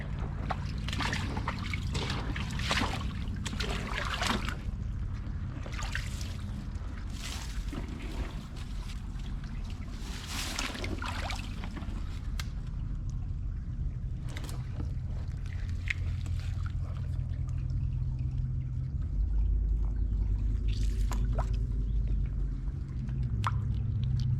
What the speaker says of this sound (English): Now we're putting some water where it should be.